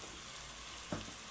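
Coriander, cumin, pepper, fenugreek and mustard seeds frying in a pan, giving a soft, steady sizzle with a faint crackle near the end, close and quiet with no talking.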